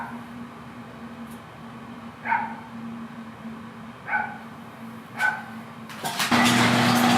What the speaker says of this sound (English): So I got the garage door shut so we don't have to hear that fucking dog.